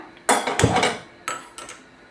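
A metal kadai is set down on a gas stove, making a few sharp, close clanks and knocks with short gaps between them, and no voices.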